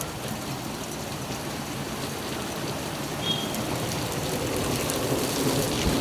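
Heavy monsoon rain pours down steadily during a downpour in Ahmedabad, a dense continuous roar of drops with no pauses, and no voices over it.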